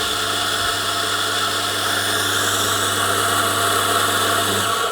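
A coffee grinder runs continuously and loudly, grinding coffee beans through after grinder cleaning tablets, with a steady motor drone and gritty whirring of the blades.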